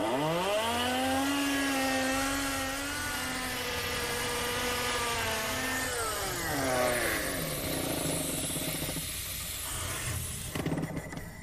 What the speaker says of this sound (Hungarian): Ha rákapcsoljuk a levegőt, akkor fúrhatunk is.